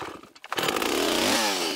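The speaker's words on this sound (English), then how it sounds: "High-quality trees worth a lot of dollars are usually still hand-cut with a chainsaw." A chainsaw cutting high-quality trees by hand in a logging forest, loud and close, with the engine revving up after a brief dip and then holding a steady roar.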